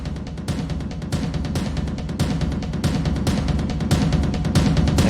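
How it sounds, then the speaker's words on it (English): Cinematic percussion hits pulse steadily in a melodic dubstep build-up, rising gradually from quiet to full volume over a thick low-end bed, with no voices. "And then I do have these cinematic drums that just kind of build in."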